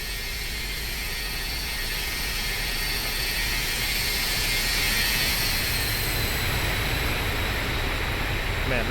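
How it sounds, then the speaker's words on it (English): Roar of an MD80 jet airliner passing in an external flyby within a flight simulator, a loud, steady, broadband jet rush and whine filling the whole stretch without a break. "Watch your ears. We're doing an external flyby."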